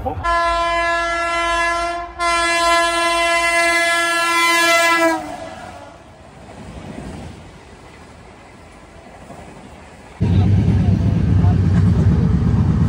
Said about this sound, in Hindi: आ गई ऑलमोस्ट अपनी ट्रेन